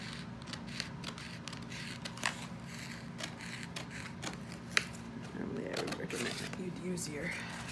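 Small sharp snips of scissors cutting paper for a miniature sushi shop craft model, scattered clicks close by under a person talking.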